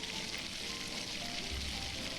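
Onion with a mixer-ground paste sautéing in a pan for pav bhaji, a soft continuous sizzle, faint and even, with no talking.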